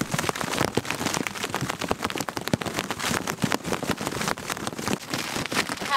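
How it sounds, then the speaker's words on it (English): Hail pelts a tarp during a hailstorm on the Continental Divide Trail, a dense, loud, continuous crackling patter of impacts with no talking. "We're having a hailstorm right now."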